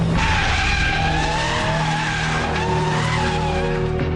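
A BMW M3 E92 is driven hard nearby, its tyres squealing loudly and steadily over a constant engine roar for the whole stretch.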